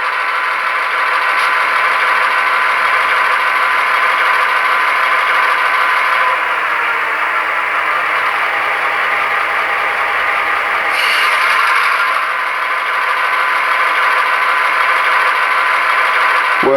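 Athearn Genesis GP15-1 HO scale model locomotive with Tsunami 2 DCC sound, a steady idling diesel engine drone with faint rattling that holds evenly throughout, loud and close, with no talking.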